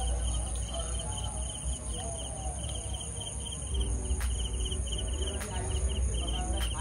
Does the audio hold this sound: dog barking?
no